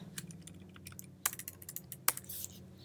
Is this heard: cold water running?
no